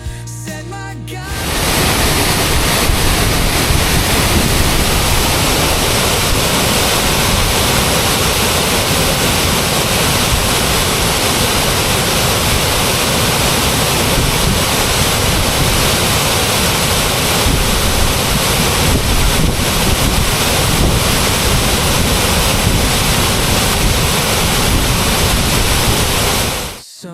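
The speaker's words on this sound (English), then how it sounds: "Hiking to a beautiful waterfall." Wadsworth Falls in Middletown, Connecticut, roars as a steady, dense rush of falling water that stays loud and unbroken the whole time, with no voices over it.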